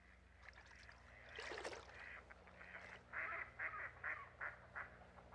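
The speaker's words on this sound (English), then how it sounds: "So that was the black duck." A black duck gives a series of raspy quacks, a short flurry and then five evenly spaced calls, moderately close against faint background noise.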